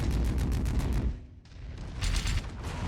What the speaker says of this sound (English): Oh, I start with machine guns